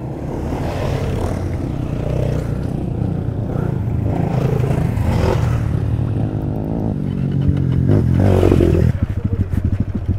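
Off-road motorcycles come down a hillside near Jarsingpauwa, one on a rented bike, their engines droning loudly and continuously with clattering and scraping over rough ground, rising toward the end.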